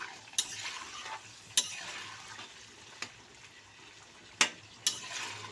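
Vegetables sizzle and fry in a wok, stirred with a metal spatula that scrapes and clinks against the pan every second or so, quiet and close with no talk.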